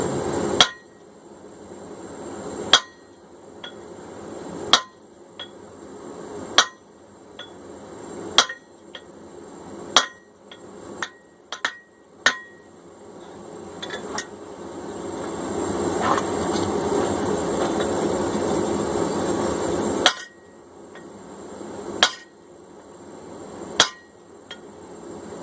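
A hammer strikes hot steel while a cross peen hammer head is hand forged, with sharp ringing blows at irregular intervals, loud and close, over a steady background roar from a forge or blower.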